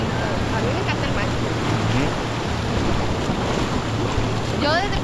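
Sea waves and surf at Manuel Antonio beach in Costa Rica roar steadily and loudly under gusting wind buffeting the microphone, with voices talking faintly over the wash.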